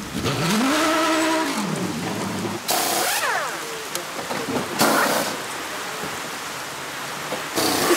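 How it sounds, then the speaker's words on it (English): Heavy rain pours down in a steady hiss while racing cars roar past several times at the Spa 24 Hours, their engines rising and fading through the downpour. "And finally, the big Belgian downpour."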